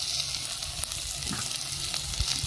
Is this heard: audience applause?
no